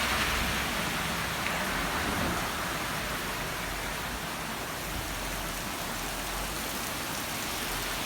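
Heavy late-August thunderstorm rain pours down in Sardinia, a dense continuous hiss of falling water that stays loud and steady throughout, with no voices.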